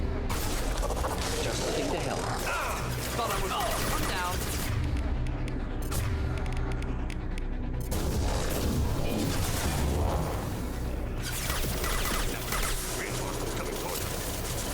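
Heavy gunfire fills a Mass Effect 2 battle during a squad's suicide mission: dense, continuous automatic bursts and booming impacts with hardly a break, while voices talk over the din.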